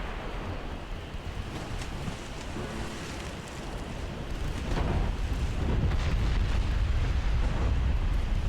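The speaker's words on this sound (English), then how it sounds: "was a main belt penetration from the 14-inch shells from the New York" Heavy 14-inch shell hits on a battleship's main belt armor in a naval battle game, a continuous roaring rumble of explosions and churning water that swells louder in the second half.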